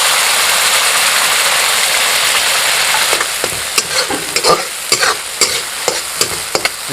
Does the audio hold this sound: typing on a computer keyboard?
no